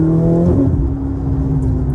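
A Ferrari 488 Spider engine revs hard above 3,000 rpm, a loud, close, steady roar with a rising harmonic whine that holds throughout without pause.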